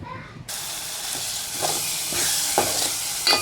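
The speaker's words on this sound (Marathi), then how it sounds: "लसूण आणि मिरची वाटून घेतलेली ती टाकायची आता आपल्याला. चांगलं परतून घ्यायचंय" Ground garlic and green chili drop into hot oil in a pan and sizzle loudly and steadily, with a few soft stirring scrapes breaking through the constant frying hiss.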